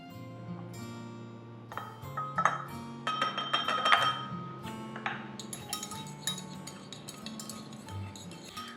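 Dry spices for a steak rub are mixed in a bowl, a utensil clinking and ringing against it in quick, irregular taps, close and fairly quiet.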